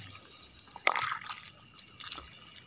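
Water trickling and dripping as plants are watered outdoors in a farm garden, a faint irregular splash of drops with a brief louder burst, alone without speech.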